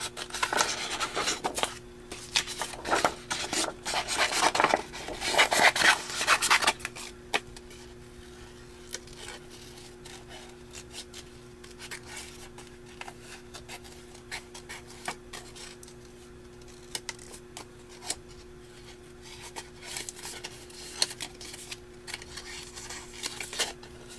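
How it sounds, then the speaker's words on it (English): Scissors snip quickly around a hand-colored paper butterfly, with a loud run of rapid cutting and rustling at the start, then sparser, fainter snips and paper handling over a low steady hum. "use my scissors to quickly fussy cut this out"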